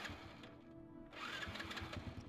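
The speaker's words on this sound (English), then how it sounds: "My stupid bike won't start." An old scooter engine in a video game sputters and fails to start, with a rapid, uneven mechanical chugging that strains, drops out briefly, then resumes faintly.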